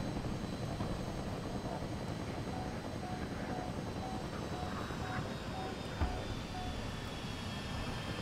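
Steady drone of an aircraft engine in flight inside a World War 2 tank combat game, a continuous broadband hum with a faint whining tone, holding level throughout with no talking over it.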